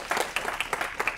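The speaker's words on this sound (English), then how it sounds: "Kind of round of applause for Kevin." An audience at a housing justice and health equity event applauds, with a short burst of scattered, moderately loud hand claps close by.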